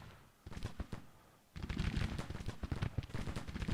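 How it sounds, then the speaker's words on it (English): Civil War artillery fires in the battle game Grand Tactician, a dense rolling fusillade of booms and cracks that starts sparse, then swells into continuous loud volleys. "My artillery's finally engaging."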